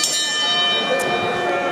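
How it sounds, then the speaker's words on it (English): A wrestling ring bell rings with a sustained metallic tone, loud and close, filling the short moment alone. "hey, ring the bell."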